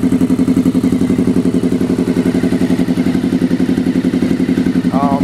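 A Honda VFR400 (NC30) motorcycle engine idles loudly and steadily, its exhaust putting out a rapid, even chugging pulse throughout.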